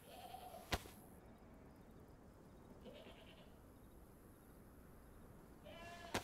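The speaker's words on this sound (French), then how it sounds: "On entend une chèvre." A goat bleats faintly in the survival video game DayZ, two or three short distant bleats spread across a quiet, hissy background.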